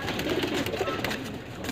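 Pigeons for sale at a pigeon keeper's place in Daliganj, Lucknow, coo softly in short, close bursts amid ambient noise, with someone talking over them.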